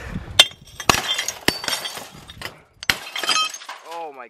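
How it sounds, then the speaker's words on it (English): Thick glass from a TV screen is beaten in and shatters in several sharp cracking blows with tinkling fragments between them. A voice speaks at the same time. "we're just gonna beat the rest of the glass in."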